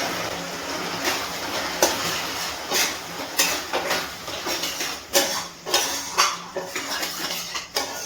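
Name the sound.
stirring butter into chicken keema masala in a pan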